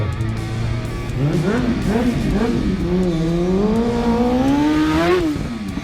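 A Kawasaki motorcycle engine revs while warming up, loud and close, its pitch rising and falling in repeated throttle blips before a higher sustained rev, with no talk over it.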